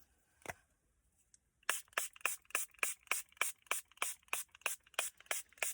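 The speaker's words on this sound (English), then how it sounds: "So the paper, and I just spray." A spray bottle of tea pumped onto paper in a quick steady series of short hissing bursts, close up, after a brief tap.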